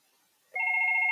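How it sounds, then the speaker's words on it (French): A Fanville X3 IP desk phone rings for an incoming call from an unknown number, an electronic trill that starts abruptly after a short quiet moment and continues steadily, loud and close. "le Fanville X3, ça sonne avec un numéro inconnu"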